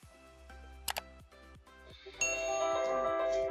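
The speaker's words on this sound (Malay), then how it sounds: "Kalau katalah saya nak onkan radio, saya hanya perlu tekan button ini saja." A Sony ICF-C1T FM/AM clock radio ticks softly and regularly, a bright ding sounds partway through, then the radio switches on at the press of a button and a steady broadcast sound fills the rest.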